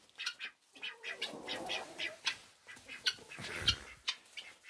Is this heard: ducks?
yes